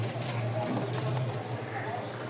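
Low cooing from Giribaz pigeons sits under a steady background hum, with a soft repeated warble near the start and middle.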